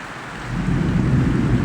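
Steady morning rain pours down in Dhaka with a deep, rumbling low roar of thunder building underneath, close and continuous, no voices present.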